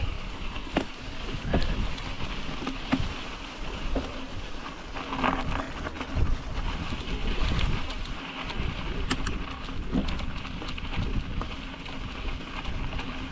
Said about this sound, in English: Okay, stiff breeze at my back, rolling down from Primrose.